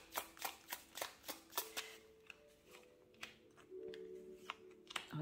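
Tarot cards handled and laid out on a table during a reading: a run of crisp, quick flicks and slaps, each card snapping down in turn, then softer shuffling and sliding, close and fairly quiet with a faint background hum.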